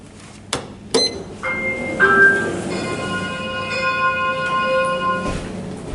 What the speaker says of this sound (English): Do you like that chime?